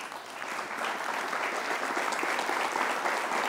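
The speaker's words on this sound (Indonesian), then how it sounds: "Kita berikan tepuk tangan." Studio audience applause on an Indonesian motivational talk show as a man is called forward for a makeover, swelling quickly into steady, dense clapping from many hands.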